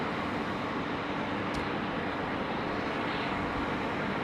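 A Qantas airliner bound for Vancouver taxis along a taxiway at Sydney Airport, producing a continuous broad jet-engine roar that stays steady throughout, heard from some distance.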